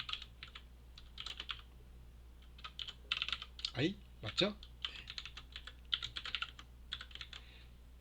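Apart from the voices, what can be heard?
fast computer keyboard typing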